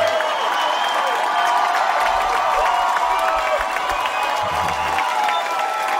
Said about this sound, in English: Round of applause for Rudy, everybody! They're chanting Rudy, Rudy.